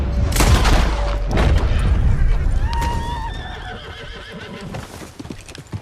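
In Red Dead Redemption 2, a horse whinnies loudly over clattering hooves, with sharp impacts and a bright ringing tone; game-style sound effects, no speech.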